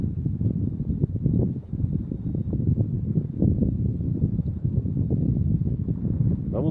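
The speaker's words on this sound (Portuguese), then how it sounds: "Tá frio pra dedéu, tá um vento." Cold wind blowing at a mountain lookout before sunrise, a steady low rumbling buffet against the microphone lasting throughout, with a person talking over it.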